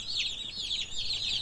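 Meat chickens on a homestead give a steady run of soft, overlapping high-pitched peeps and clucks, close and continuous with no talking.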